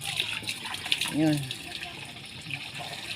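Water gushing from a tap into containers being filled, a steady splashing rush heard close under a woman's brief spoken words, with a short creaky squeal partway through.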